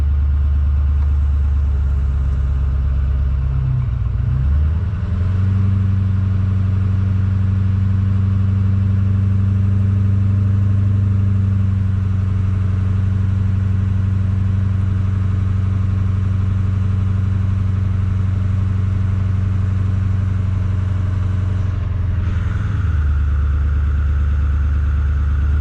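A Ford F450 truck engine runs loud and close after a failure, revving up at first, then holding a steady, heavy idle for a long stretch before the revs drop again near the end.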